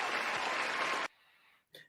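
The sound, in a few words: round of applause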